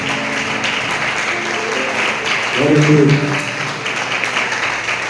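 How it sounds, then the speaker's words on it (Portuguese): A congregation at a church worship service claps in praise with a steady rhythmic beat that runs throughout, while a voice briefly calls out over it partway through. "as palmas louvam ao Senhor"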